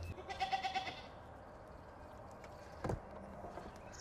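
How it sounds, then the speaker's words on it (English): Goats bleat early on, wavering and not loud, over steady outdoor noise, with a brief thud near the end. "You think your goats are hungry?"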